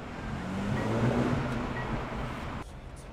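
Steady low rumble of a 2023 Mercedes-AMG CLA35, an all-wheel-drive car, while driving, moderately loud and continuous, with a brief drop near the end.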